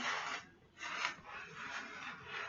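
Fingers rub and work through wet hair during finger detangling on wash day, giving close, soft broadband rasping swishes in several uneven strokes with brief pauses, no talking.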